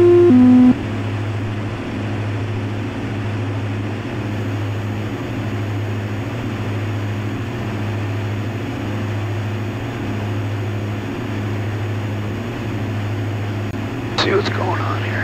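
Steady droning engine hum fills the cabin of a 2006 Diamond DA-42NG twin-engine plane in flight, loud and constant, with a brief rustle near the end.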